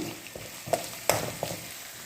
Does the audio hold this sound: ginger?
yes